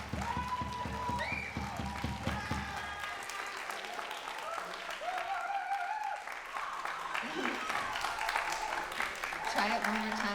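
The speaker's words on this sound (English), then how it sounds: "They started to applaud" An audience in a jazz and blues camp masterclass breaks into applause, steady clapping that runs through the clip and rises slightly toward the end, with a voice speaking over it partway.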